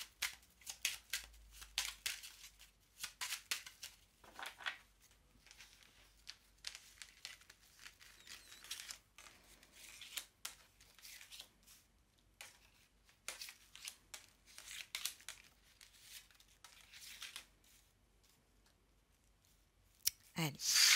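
Tarot cards being drawn and handled at a table, with soft clicks, crinkles and paper shuffling in scattered quiet bursts, close and faint with brief pauses between.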